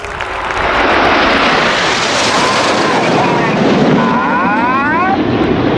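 Red Arrows jets in a flying display roar past loudly and continuously, a broad engine rush with sweeping pitch changes as the formation passes overhead.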